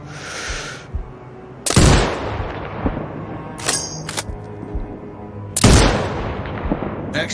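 Two loud, sharp sniper rifle shots ring out in the video game Sniper Ghost Warrior Contracts 2, each followed by a decaying echo tail, with a few faint mechanical clicks between them.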